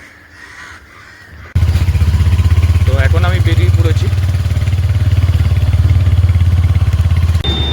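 After a quiet start, a motorcycle engine fires up and settles into a loud, steady idle and rev as the bike pulls away, while someone talks briefly over it and a crow caws in the background.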